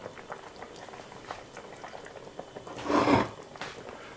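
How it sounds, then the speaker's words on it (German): A pot of curry chicken stew simmers at a steady bubbling boil, soft popping and gurgling throughout with one louder burst of bubbles near the end, no voices. "das Gesamte lassen wir jetzt ungefähr 20-25 Minuten köcheln, kochen"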